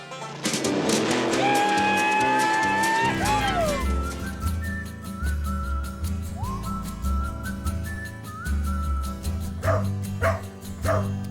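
A basset hound barks and yips close by, several sharp barks and whimpering cries over a tonal backing sound.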